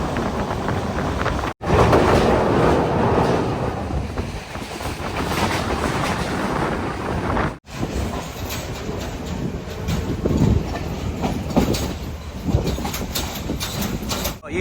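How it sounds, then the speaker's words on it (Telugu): A small Sri Lankan train with only a handful of coaches running along seaside rails, a continuous rumbling clatter of wheels heard close from aboard, with two sharp brief dropouts and faint rhythmic clicking throughout. "ఈ ట్రైన్ చూడండి ఎంత బుడ్డి ట్రైన్."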